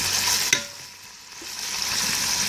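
Bacon sizzles and fries steadily in a Ninja Foodi multicooker pot, a close, continuous crackling hiss with a brief utensil click or stir partway through and no voices.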